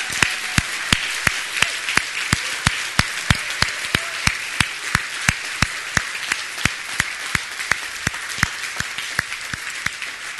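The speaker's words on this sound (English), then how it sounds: "Let's give them a round of applause." A church congregation applauds in a full sanctuary, with sharp regular claps standing out above a broad, steady wash of clapping that continues evenly throughout.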